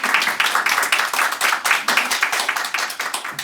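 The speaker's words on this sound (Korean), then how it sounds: "정명희 교수님을 큰 박수로 맞이해 주시기 바랍니다." An audience at a Gyeongbuk tourism forum claps to welcome a speaker, a brisk, fairly close burst of many hands with distinct individual claps that pulses evenly throughout.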